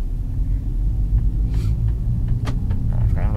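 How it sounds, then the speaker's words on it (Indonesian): A Volkswagen car engine idles with its exhaust valve closed, a deep steady rumble close by, with a few brief higher clicks and rustles over it. "Ini knalpotnya dari tadi belum gue buka guys."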